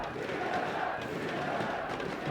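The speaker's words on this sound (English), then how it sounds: "Crowd chanting, pumping up Solamid." A live esports crowd at a Las Vegas tournament chants and roars for the team Solamid, a steady, dense wall of massed voices filling the hall without pause.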